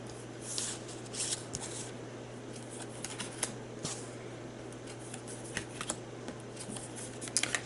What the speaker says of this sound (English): I'm going to go ahead and draw my 6 cards for Hawkeye